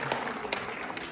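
A brief burst of clapping from a gathered audience at a Nepali Christian engagement ceremony, several sharp hand claps blending into short applause at moderate distance.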